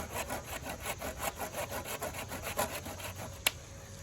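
Steady rhythmic strokes of a hand saw cutting wood for a homemade crossbow, close and clear, ending with a sharp crack as the piece breaks.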